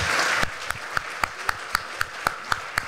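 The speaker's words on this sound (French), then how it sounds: "Et on peut les applaudir aussi." Applause from an audience at a mayors' awards ceremony in the Loire: a loud burst of dense clapping that thins into sparse, evenly spaced individual claps.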